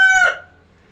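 A single short burst from a rooftop chicken flock, a sharp bright squawk or crow fragment that cuts off and fades within half a second into quiet.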